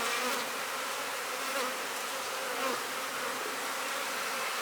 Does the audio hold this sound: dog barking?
no